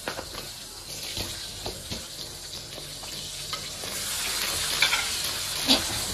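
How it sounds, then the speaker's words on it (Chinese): Scallions and ginger hit hot oil in a home wok while braised hairtail with napa cabbage is made, giving a steady close sizzle with crackling pops and a few brief scraping stirs, no voices. "现在呢，把葱姜下锅"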